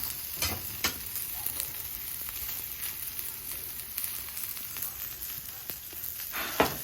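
Sweet potatoes crackle and sizzle on a Camp Chef flat top griddle outdoors, a steady frying hiss broken by scattered scrapes and taps as a spatula turns them, close and moderately loud with no talking.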